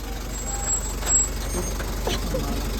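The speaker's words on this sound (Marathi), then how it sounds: "गाडी आलेली आहे मित्रांनो." A vehicle pulls up on a village trip, its low engine rumble running under repeated high reversing beeps, with a brief hiss near the middle and faint voices in the background.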